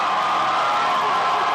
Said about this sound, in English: Thunderous, think of that, thunderous applause.